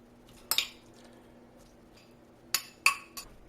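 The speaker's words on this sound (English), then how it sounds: "Next we're adding our tuna salad." A spoon clinks and scrapes as tuna salad is dropped onto cheese-topped tortillas in a cast iron skillet, a sharp metallic knock followed later by two more close clinks, with quiet stretches between.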